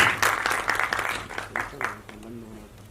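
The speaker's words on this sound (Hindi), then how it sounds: "जोरदार तालियां हो जाए for the actress Pritika Chauhan please" Audience applause for an actress at a film trailer launch event, with a burst of clapping for about two seconds that fades as a voice takes over.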